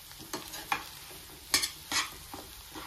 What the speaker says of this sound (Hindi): इस तरीके से लगातार चलाते हुए आप इसे भून लें।